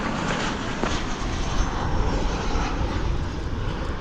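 Airliner taking off from runway 18 left at DFW Airport, a loud continuous roar of jet engines at full power, steady and close, with no voices over it.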